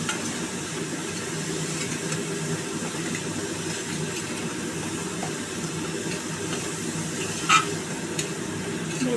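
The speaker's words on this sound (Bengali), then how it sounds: "এবার মশলাটাকে একটু কষিয়ে নেবো" Chilli spice paste frying and being stirred in a pan for a spicy pomfret fish curry, giving a steady close sizzle with faint scraping throughout and one brief sharper clink near the end.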